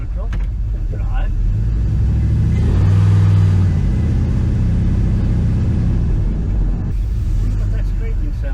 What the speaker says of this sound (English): Wonder what that scraping sound is.